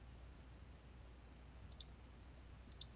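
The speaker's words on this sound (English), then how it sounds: "I'm just entering left mouse clicks for every vertex that I want to add" Computer mouse clicks while digitizing a polygon in GIS, two pairs of quick, crisp, faint clicks about a second apart over quiet room hiss.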